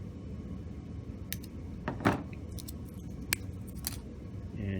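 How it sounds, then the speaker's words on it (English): Scissors snip off the excess end of a tie wrap on a Z-45 field termination, a few sharp, close clicks and one louder cut, alone in a quiet room. "Cut off your excess."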